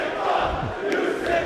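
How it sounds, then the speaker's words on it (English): A wrestling arena crowd jeers and boos at Nick Jackson of the Young Bucks, a steady roar of many voices swelling and dipping without pause. "This crowd not happy with Nick Jackson, voicing their displeasure."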